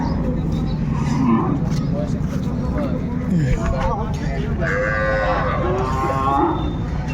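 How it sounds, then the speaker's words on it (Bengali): Sahiwal bulls at a cattle market moo several times, loud and fairly close, over a constant crowd murmur and background voices. "বেস্ট কোয়ালিটি সম্পন্ন গরুগুলো কালেকশন করছে আতাউর ভাই"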